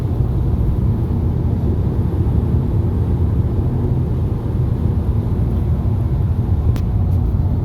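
A car cruising on a long highway drive through Pennsylvania on a ten-hour trip back from Albany, New York, its cabin filled with a loud, steady low road rumble and engine drone that never lets up.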